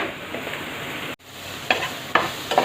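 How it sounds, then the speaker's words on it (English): Spoon scraping and stirring palak lemon rice in a pot, soft mixing rustle with a few sharper scrapes against the pot toward the end, alone and close. "Now we'll mix the rice."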